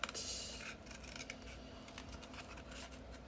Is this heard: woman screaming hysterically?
no